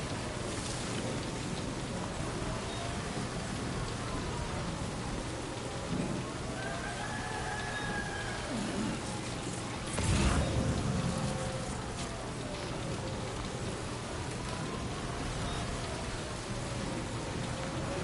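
Steady, dense rain falls in the video game Death Stranding 2, a constant broadband hiss that fills the scene, with a brief heavier rumble in the middle and no talking.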